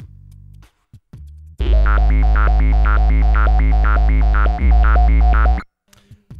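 A loud, heavy wobble bass synth on a Boss RC-505 loop station, resonance at 100, drones with a rhythmic wobbling modulation and a sweeping phaser swirl, preceded by a few short low notes.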